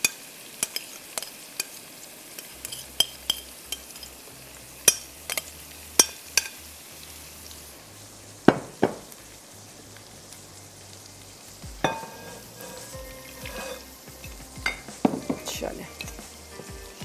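Marinated beef sizzles steadily in hot oil in a pot while a spoon stirs it, scraping and clinking against the metal in irregular knocks over a constant frying hiss.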